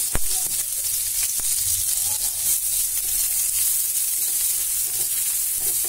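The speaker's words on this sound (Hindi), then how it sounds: "सबसे पहले मैं तेल में डालूंगी चॉप किया हुआ प्याज" Chopped onion dropped into hot oil in a frying pan over a medium-low gas flame: a steady, close hiss of sizzling, with a couple of sharp pops at the start.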